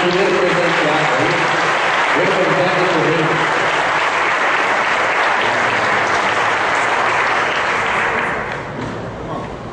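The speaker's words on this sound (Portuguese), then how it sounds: "dá uma salva de palmas para o nosso primeiro presenteado aí" Loud, sustained applause from an audience at a church gathering fills the space for nearly ten seconds, with a voice talking over it at the start before the clapping eases slightly near the end.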